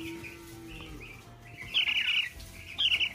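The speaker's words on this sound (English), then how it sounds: "You want to tell your baby turkeys good night?" Baby turkeys in a farm-store brood setup give high, piercing peeps, two sharp bursts of chirping that stand out over a low background hum, close and fairly loud.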